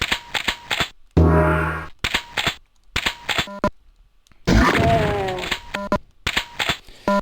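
Doom's chain gun rattles off rapid bursts of sharp shots, broken by short gaps and interleaved with other harsh game effects, loud and close.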